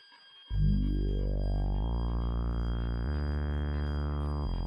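A synthetic sound effect from the Beautifully Broken sample instrument, a buzzy tone sweeping sharply upward in pitch, then holding and stepping higher in stages, loud and sustained with a bright metallic edge.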